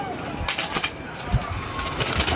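A pigeon coos softly at close range, low repeated murmurs amid rustling and background noise, with a voice speaking nearby.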